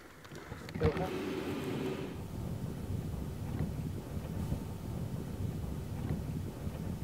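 Steady wind rushes and buffets a microphone outdoors in a hunting blind in Wyoming at sunrise, a low continuous roar that stays loud throughout.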